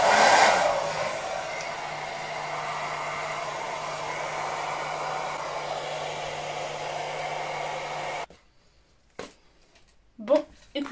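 Hair dryer fitted with a heat diffuser drying wavy hair, a loud steady blowing roar held close for about eight seconds, then cutting off to near silence broken by a few short handling knocks.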